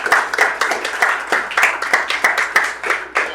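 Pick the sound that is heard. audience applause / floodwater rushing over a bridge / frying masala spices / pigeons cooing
audience applause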